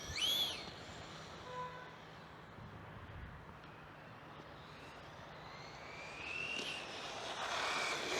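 Traxxas Drag Slash 3s RC car, a two-wheel-drive model, with its electric motor at full throttle: a steady high whine and rushing noise that rises and falls as it races past, heard from a short distance.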